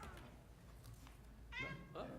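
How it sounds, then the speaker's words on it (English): Cat meowing in a town board meeting room, two short rising meows near the end, fairly close, with faint talk and room murmur before them. "Who let the cat in?"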